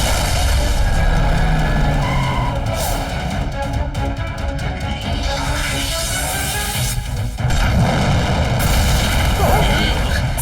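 A cartoon missile launches from a toffee amid loud, dense booms and blasts that roll on continuously, with a whooshing rush and dialogue mixed underneath.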